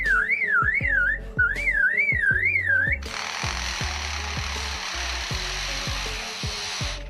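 A lyrebird's warbling, wavering whistle gives way to its loud, sustained mimicry of a running chainsaw's buzzing roar, over a steady rhythmic clatter.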